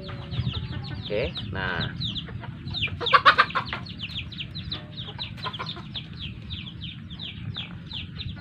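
A chicken with a respiratory illness (ngorok) clucks and rasps close by after mucus has been cleared from its throat, with short bursts amid steady background noise while someone talks.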